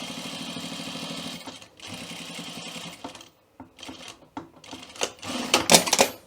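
A sewing machine runs in two steady stitching bursts along a welt pocket line, then stops, followed by clicks and fabric handling up close, with no talk.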